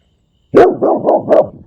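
A dog barks four times in quick succession after a moment of silence, close and loud, the barks evenly spaced.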